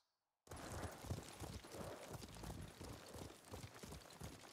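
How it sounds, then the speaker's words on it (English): Horse hooves clip-clop in a rapid, steady rhythm close by in Ghost of Tsushima, a busy galloping patter with game-like ambience and no speech. "What a good horse."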